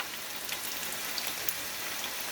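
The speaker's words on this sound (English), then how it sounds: "And now it's just going to be frying them up." Taco shells frying in hot grease, a steady close crackling sizzle with scattered pops and spits, continuous and without talk.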